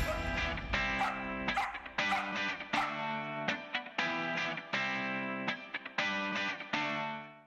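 A dog barks in answer to a math sum, giving a run of loud, sharp barks that sound distorted and heavily processed, close and continuous over music-like harmonic tones.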